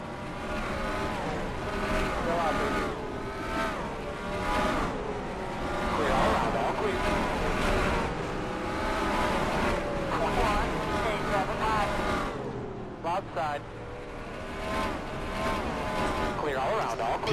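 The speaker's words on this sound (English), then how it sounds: "I hear cars banging into each other again." Race cars roar in NASCAR Racing 2003, engines droning loud and continuous as the pack runs double file, with brief clattery hits near the end as cars bang into each other.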